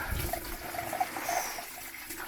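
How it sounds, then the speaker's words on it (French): Coolant drains out of a Fiat Panda radiator in a steady trickling, splashing stream, a faint and continuous pour with no voices. "là comme ça on va pouvoir vider le refroidissement"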